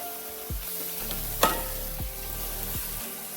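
Napa cabbage going into a hot pan with the heat just turned off while cooking moo shu pork, a steady gentle sizzle broken by a few clunks and one sharp clatter.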